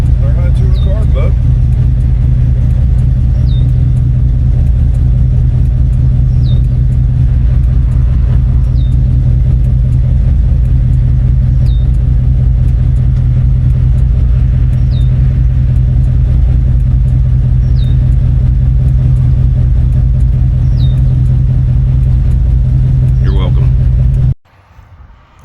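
A hot rod with a 600 CFM carburetor idles loudly and steadily with a deep, continuous engine rumble, then cuts off abruptly at the end.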